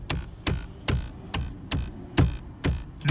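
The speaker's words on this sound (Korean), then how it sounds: "지금 주행 중에 자꾸 운전석 도어 트림에서 소리가 나요." A new Renault XM3's driver's door trim knocks in a series of sharp, hollow plastic raps about every half second, close and loud, with no talking.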